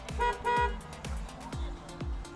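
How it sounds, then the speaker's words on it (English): Two long car horn blasts in a row from a 2016 Mazda CX-9 Grand Touring, then a softer run of repeated thuds near the mic. "let's see what the horn sounds like"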